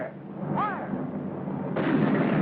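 An artillery cannon fires once with a sudden, broad, roaring boom near the end, after a brief shouted call over a low background rumble.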